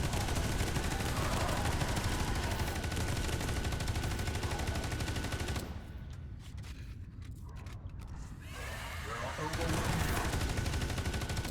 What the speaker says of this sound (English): Love this assault cannon. It's called the Vengeance. It fires armor-piercing rounds